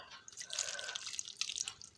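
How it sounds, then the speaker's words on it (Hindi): Water is trickled little by little into kadi batter for Punjabi kadi pakoda, giving a close run of light splashing and dripping that stays steady for about two seconds with no talking. "थोड़ा थोड़ा करके मैं पानी शामिल करके तो इसको अच्छे तरीके से मैं मिक्स कर लेती हूँ"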